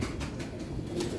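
Low, soft coos of pedigree pigeons repeat close by against a faint background hiss.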